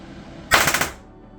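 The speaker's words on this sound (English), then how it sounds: "when I pulled the trigger, the B.O.S. unit fires" An RDX B.O.S.S. unit on an airsoft gun fitted with an inline mosfet fires a single short, loud burst of rapid popping shots when the trigger is pulled, with quiet before and after.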